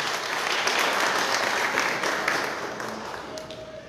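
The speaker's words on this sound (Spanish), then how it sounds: "Brindémosle un fuerte aplauso." Audience applause at a ceremony signing an agreement between the Zitácuaro town council and a preparatory school, steady moderate clapping from a room full of people, fading slightly toward the end.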